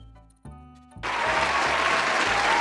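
A burst of applause breaks out after brief music, loud, dense clapping that continues steadily to the end with music still underneath.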